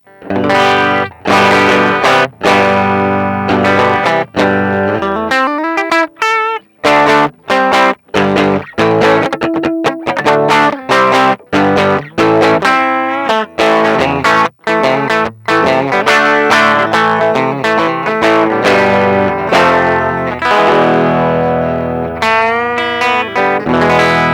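Electric guitar played through a Thermion Breakthru overdrive/distortion pedal, loud and gritty, with chugging riffs and choppy stops between sustained distorted notes.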